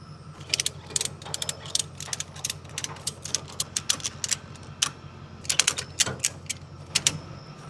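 A ratchet strap is cranked tight to hold a mini skid steer down on a trailer, with rapid bursts of metallic clicks repeated in uneven groups, close and crisp over a low background hum.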